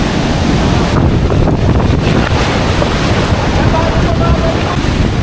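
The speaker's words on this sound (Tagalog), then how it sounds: "Ay, ang alon nagigiba talaga ng bahay." Big ocean waves crash against a shore where houses are being destroyed, a loud continuous roar of surf mixed with heavy wind buffeting on the microphone.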